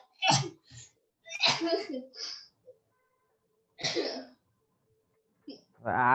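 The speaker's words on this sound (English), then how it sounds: "You see, I'm quite sick myself, so I have this racking cough." A teenage actor in a stage drama performance gives a few harsh, rasping coughs and throat-clearing bursts, loud and close, interspersed with brief silences and some spoken lines.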